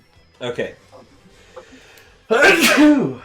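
A single loud, sharp sneeze bursts out close by after a short spoken word and some quiet background sounds, during a tabletop game session.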